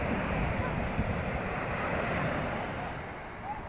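Sea waves wash steadily onto the beach at Agami, a continuous broadband surf roar with wind buffeting the microphone, loud and close throughout with no talk.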